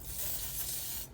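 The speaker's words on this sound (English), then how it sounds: "I'm gonna just spray me some chrome in" An aerosol can sprays chrome paint into an engine cylinder of a 4.8 junkyard motor, a steady close hiss lasting about a second before cutting off abruptly.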